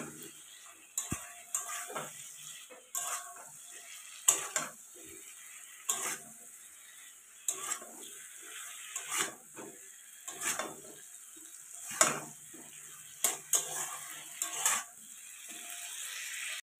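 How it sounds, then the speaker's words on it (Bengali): Fried taro and potato pieces are stirred into masala in a pan, with repeated sharp scraping taps of a spoon on the metal over a faint sizzle, coming in irregular bursts and close up. "দিয়ে ভালো করে নাড়াচাড়া করে নেবো।"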